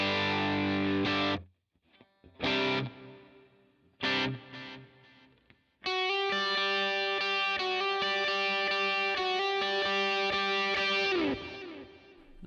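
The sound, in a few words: guitar with delay effect on Line 6 Pod Go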